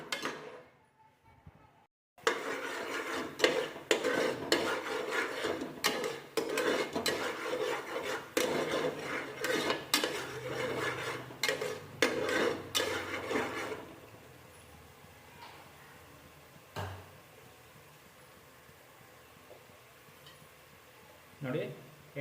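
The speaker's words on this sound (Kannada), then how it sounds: "ಅದನ್ನು ಎಣ್ಣೆಗೆ ಹಾಕ್ಬಿಟ್ಟು ಸ್ವಲ್ಪ ಫ್ರೈ ಮಾಡ್ಕೊತಾ ಇದ್ದೀನಿ" Ground masala frying in oil in a pan for mutton curry, with a spoon repeatedly scraping and stirring in dense rasping strokes that taper off into a quieter sizzle and a few scattered knocks.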